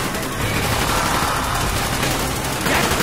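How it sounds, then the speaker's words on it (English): Sustained gunfire and automatic bursts in the Call of Duty: Black Ops video game, a dense, continuous crackle of rifle fire filling the whole stretch with loud, steady shots. "We're taking fire!"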